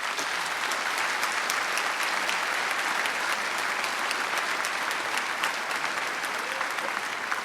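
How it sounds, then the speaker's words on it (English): Sustained applause in the Illinois House of Representatives chamber at the inauguration of the 103rd General Assembly, honoring Jim Durkin: a dense, loud, even roar of many hands clapping that continues without pause. "we all should give Jim Durkin a round of applause"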